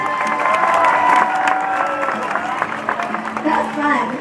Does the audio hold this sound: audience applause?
yes